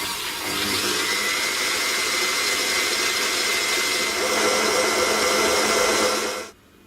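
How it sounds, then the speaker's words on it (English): An electric mixer whips heavy cream toward stiff peaks, giving a steady, loud motor whir that holds evenly for about six seconds and then cuts off abruptly. "Now we want to beat this until stiff peaks form."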